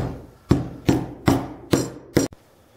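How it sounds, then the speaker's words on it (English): Five sharp hammer blows tapping a metal barrel onto the shaft of an old egg beater, evenly spaced and ringing briefly, followed by a final lighter tap and quiet. "I'm going to see if I can tap this barrel onto there."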